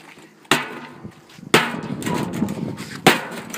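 Three loud, sharp hammer blows spaced over a few seconds hit the metal part of a vacuum cleaner, each followed by a rattling clatter that lingers.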